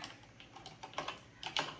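Someone types on a Cloud Nine C989 ergonomic mechanical keyboard with Cherry MX red switches, giving quiet, close keystrokes in short irregular bursts that grow slightly louder toward the end.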